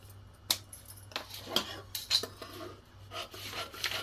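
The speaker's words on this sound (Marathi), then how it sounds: "आता आपल्याला हे कट करून घ्यायचे" Scissors cut through blouse fabric for a katori blouse in close, faint snips and rasping strokes, with light scraping and tapping around them and no talk.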